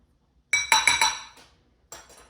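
A metal fork clinks several times against a bowl while healthy breakfast cookie dough is mixed: three quick bright taps close together, a softer one, then a final tap after a pause, close and alone.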